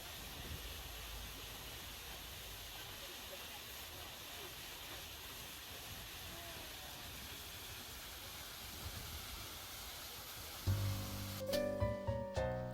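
Jeongbang Falls on Jeju Island, a steady broadband rush of falling water heard from nearby, continuous and even throughout before it ends abruptly.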